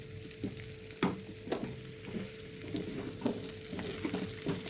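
Chicken pieces fry in a pan for a milk chicken dish, a steady close sizzle broken by several louder scraping stirs of a utensil, with no voices.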